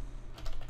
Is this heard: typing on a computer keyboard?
yes